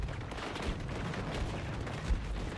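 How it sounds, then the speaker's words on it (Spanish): Several gunshots in the video game Battlefield, at the Caspian Border map, heard as rapid muffled reports over a constant rumbling battle din, fairly distant and low in level, with no voices. "Tiroteo múltiple."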